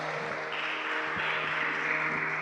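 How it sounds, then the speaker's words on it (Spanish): A church congregation claps steadily, the sustained applause filling the room evenly throughout, with no single claps standing out. "Dale fuerte ese aplauso al Señor"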